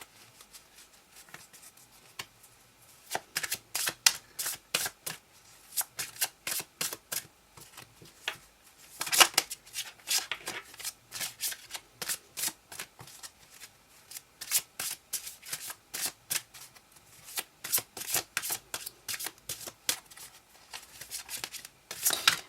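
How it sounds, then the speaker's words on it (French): Tarot cards shuffled by hand in repeated close bursts of crisp riffling and slapping, separated by short pauses, with no talking over them. "Je mélange une dernière fois."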